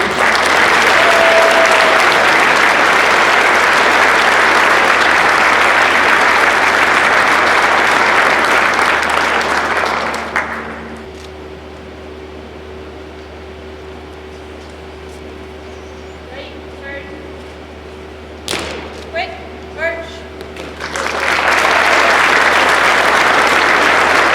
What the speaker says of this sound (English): If you could all join me in a round of applause for the dancers and all that they have done.